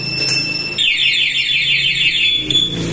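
A Lumina Pro V3 alarm fitted to a Sniper 155 motorcycle sounds off with a loud, piercing electronic siren warbling rapidly, steady for about two seconds between short bursts of background noise.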